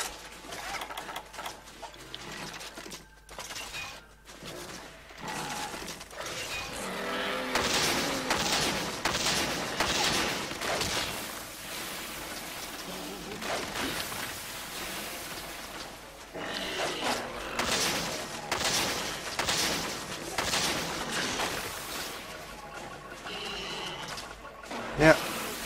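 Bowgun crouching fire in Monster Hunter 3 Ultimate comes as rapid repeated shots in dense bursts mixed with game effects and background sounds, loud and mechanical in rhythm.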